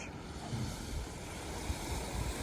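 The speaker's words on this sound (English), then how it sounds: "I found a beach." Surf washing in on an English beach along a sunny coastal path, a steady broadband rush of breaking waves mixed with gusty wind noise on the microphone, continuous and fairly close, with no voices.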